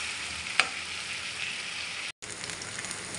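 Bacon sizzles in a pan for bacon fried rice, a steady dense crackle and hiss with one sharp pop early on and a brief dropout near the end, no talking.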